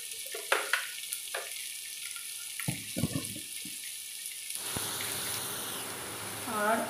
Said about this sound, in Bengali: এবার ভালো করে সবজিটা ভেজে নিতে হবে।